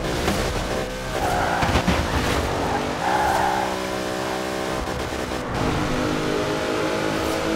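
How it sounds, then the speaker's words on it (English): A 981-horsepower offroad SRT Durango in Forza Horizon 4 roars through a tunnel, its engine droning and revving with echoing reverberation, shifting pitch as it accelerates. "you can hear it echoing real good through the tunnel"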